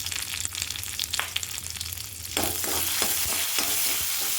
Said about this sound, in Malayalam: ചെമ്മീൻ ഉണങ്ങിയ കറിക്കുള്ള താളിപ്പാണ് ചെമ്മീൻ കൊഞ്ച് കറി